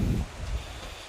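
Wind buffets a microphone at the Fuerteventura PWA windsurfing Grand Slam, a short, dull roar of broadband rumble that fades slightly, with no talking.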